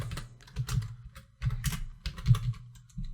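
Rapid bursts of computer keyboard typing, close and crisp, irregular clusters of key presses with short pauses, alone with no talk.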